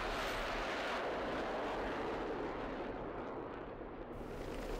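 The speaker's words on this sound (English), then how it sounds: "you'll see one of the friendly F5s come by and cover me" A friendly F-5 jet in a combat flight video game passes by, a broad, continuous roaring rush of engine noise that fills the whole clip at steady loudness.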